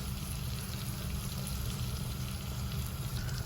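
A grilled cheese sandwich fries in butter in a hot pan, giving a steady, dense sizzle that stays loud and even throughout with no talking.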